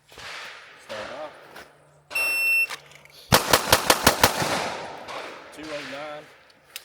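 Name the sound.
pistol shots fired rapidly during a Bill Drill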